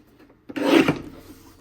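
A paper trimmer slices through a sheet of cardstock in one brief rasping stroke that starts faintly and swells into a single louder scrape lasting under a second, with no talking.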